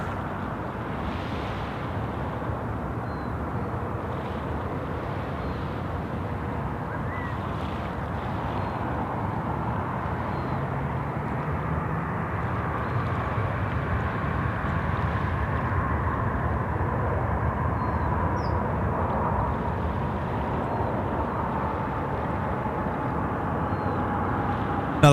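Air Canada airliner touching down at Sydney Airport after a long flight from Vancouver: a steady, moderately distant jet roar holding level throughout, with a faint whine riding on top.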